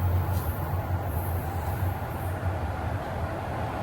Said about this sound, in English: Here's the station, and there comes the train.